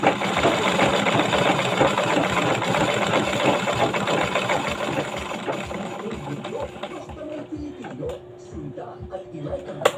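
A sewing machine double-stitching a patch onto a pair of pants, running in a steady mechanical whir that fills most of the clip before easing off near the end, with a voice talking in the background.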